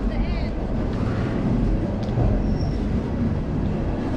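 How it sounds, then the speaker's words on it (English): A train passing at Harpers Ferry, West Virginia, heard as a steady, loud rumble of railcars rolling by, with a faint brief squeal of wheels. "this train just decided to show up right at the very end, right when we got here"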